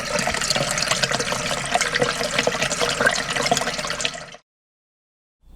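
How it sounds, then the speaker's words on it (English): Water runs steadily into the gray waste tank of an Axis motorhome during a leak repair, a dense rushing flow that continues for about four seconds and then stops abruptly into silence. "I'm gonna go ahead and fill up this gray tank"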